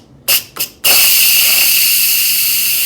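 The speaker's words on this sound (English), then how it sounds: "we're going to let the steam out of the pressure cooker" Steam bursts from an Instant Pot pressure cooker's release valve, two short puffs followed by a loud, steady hiss that holds at full force until the end.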